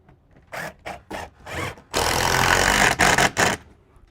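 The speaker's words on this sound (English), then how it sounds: "I'm going to add a few more screws at each blocking area." Power drill driving screws into a Fypon faux ceiling beam at the blocking, short whirring bursts followed by a longer steady run with brief stops, close and fairly loud.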